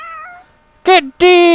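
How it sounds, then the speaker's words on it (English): Kittens in the video game Shadow of Memories meow in short, high, close calls: a soft thin mew first, then two louder, bright meows after a brief silence. "Oh, more kitties."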